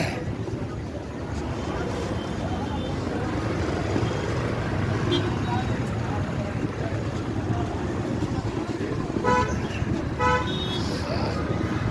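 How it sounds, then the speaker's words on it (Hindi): Steady street traffic heard from a roadside bus stop, a constant rumble of passing vehicles with scattered horn toots toward the end and someone talking now and then over it. "मैं बस स्टॉप पर खड़ा हूँ बस पकड़ने के लिए"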